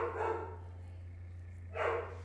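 Lucy, a pit bull, gives two short, fairly loud barks about one and a half seconds apart, indoors against a constant low electrical hum.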